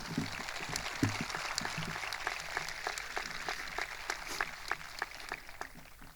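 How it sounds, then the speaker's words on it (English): A crowd at a 2021 high school graduation ceremony applauds the graduating class, a dense, steady patter of many hands clapping at moderate volume with no voices over it. "I ask you to give them a round of applause for that"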